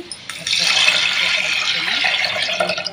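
Greens being washed under a running kitchen tap, with a steady close rush of water hitting the leaves and sink for a few seconds after a short pause.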